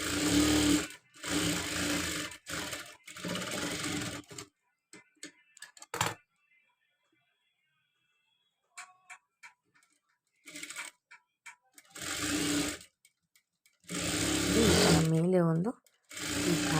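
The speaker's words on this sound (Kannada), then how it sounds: "ಇದನ್ನು ಈ ಥರ ಸ್ಟಿಚ್ ಮಾಡ್ಕೋಬೇಕು" A sewing machine stitches the front part of a blouse in several separate bursts of fast, steady mechanical whirring, with quiet gaps and brief talk in between.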